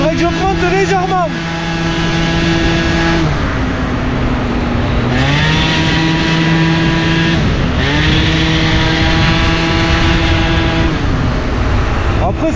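A Piaggio Zip SP scooter with a Yasuni R exhaust revs loudly up close, its engine pitch climbing and dropping in several repeated throttle swells.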